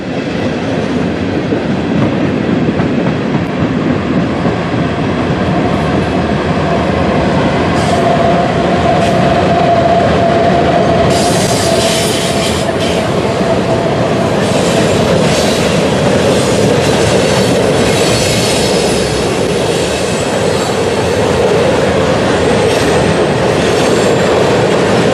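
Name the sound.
Norfolk Southern eastbound freight train passing on a bridge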